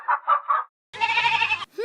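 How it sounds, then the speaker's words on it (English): A sheep from a children's farm animal app bleats in one sustained, wavering cry lasting under a second, preceded by three short bird-like calls and followed by a brief rising sound, close and clear. "That's a fluffy sheep that goes."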